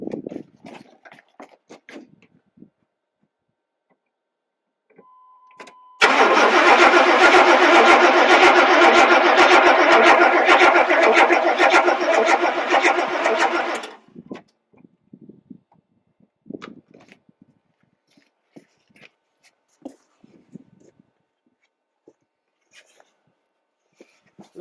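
The 350 small-block engine in a 1994 Chevy 1500 cranks for about eight seconds in one continuous loud grinding burst without catching, with quiet clicks and shuffling before and after.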